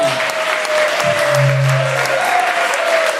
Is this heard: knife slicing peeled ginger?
no